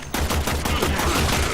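Rapid bursts of primary-weapon gunfire ring out in a Warframe training sequence, a quick rhythmic string of loud shots fired at targets with no talk over them.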